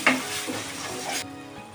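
Flat beans (sheem) with a little salt sizzle in a pan as a spoon stirs them, a brief close frying hiss that cuts off abruptly.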